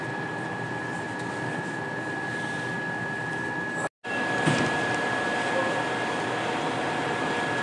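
A JDSU 8000 test set booting up gives off a steady fan-like hum with a faint constant high tone, broken once by a very brief dropout midway before the drone resumes.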